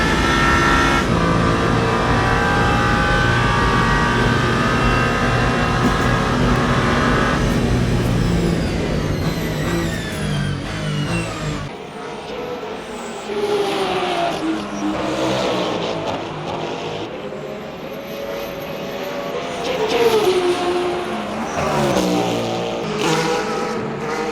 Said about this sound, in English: still plenty of LMP2 left on track